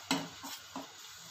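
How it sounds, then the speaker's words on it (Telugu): Wheat flour is stirred and roasted in a steel pan: a sharp scrape, then two softer strokes over a faint sizzle, close by and with no voices. "కలుపుతూనే ఉండాలి లేదంటే అడుగు పడుతుంది"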